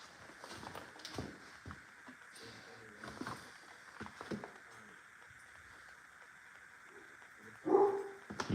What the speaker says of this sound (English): You can hear my dog barking out there